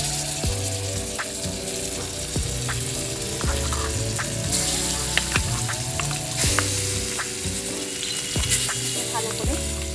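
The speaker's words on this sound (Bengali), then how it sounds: "ভালো করে ভেজে নিতে হবে।" Raw jackfruit paste frying in hot oil, a dense crackling sizzle with regular scraping stirs; a low tonal hum runs underneath.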